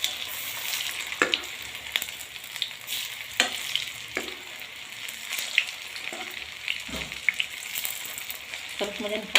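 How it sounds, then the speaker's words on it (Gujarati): Rice and pea tikki fry in hot oil over a lowered flame, giving a steady close sizzle and crackle throughout with occasional sharper pops and spatters. "સરસ મજાની ફ્રાય થઈ જવા દઈશું."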